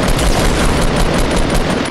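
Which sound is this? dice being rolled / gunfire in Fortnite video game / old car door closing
gunfire in Fortnite video game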